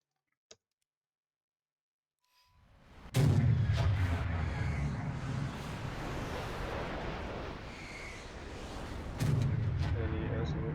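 Parachute bombs dropped from an SU-22M3 jet in War Thunder detonate in a sudden heavy blast, followed by a long rolling roar and a second loud burst near the end, after a quiet start with one faint click.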